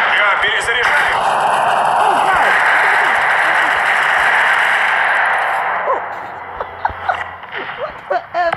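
Shotgun blasts in a war video game, a dense run of loud, overlapping gunfire for about six seconds that thins into scattered shots and clatter, with players talking over it.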